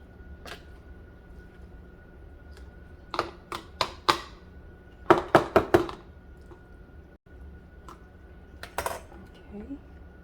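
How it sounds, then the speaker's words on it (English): Ground beef is spooned into hot canning jars: sharp clinks and knocks of a utensil on glass come in quick clusters, separated by quiet pauses, with a faint background hum. "let's go ahead and start filling these jars while they're still hot"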